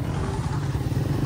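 Motorcycle engine running while riding over a canal bridge, a close, low, rumbling drone with slight fluctuations in intensity throughout the brief stretch, heard without speech.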